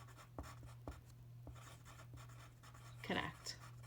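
Pen writing on paper for a coordinate drawing sheet, quiet scratchy strokes and taps up close, under a low steady hum, with a person speaking.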